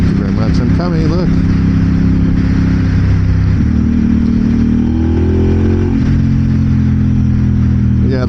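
A 2026 Aprilia RS 660 motorcycle engine droning steadily close by, its note shifting and rising briefly as the throttle opens, with a rider talking over it throughout.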